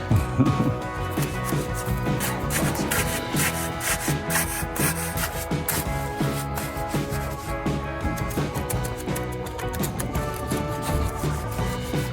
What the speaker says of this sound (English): It's my magnesium trowel.